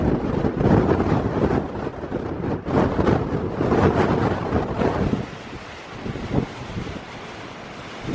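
Strong wind blows outdoors, gusting hard into the microphone in loud broadband rushes that ease off somewhat in the last few seconds, with no voices.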